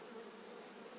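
Honey bees buzzing at a hive during a February colony inspection, a continuous, even droning hum with no breaks, moderately close and fairly quiet, with no talking.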